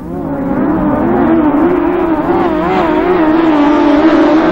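Autograss race cars at St Neots roar together into the first bend of a final, a loud continuous engine drone with wavering revs from several cars close by.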